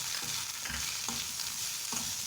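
Pirandai (adamant creeper) chutney mixture sautéed with chilli powder in a pan, a steady even sizzle with a few soft scraping stirs of a spatula, close and moderately quiet, no voices.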